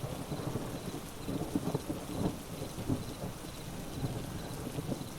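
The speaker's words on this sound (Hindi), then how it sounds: "रात का समय, बाहर तेज बारिश हो रही है," Heavy rain pours steadily at night with low thunder rumbling through a storm, a dense continuous wash with no voices.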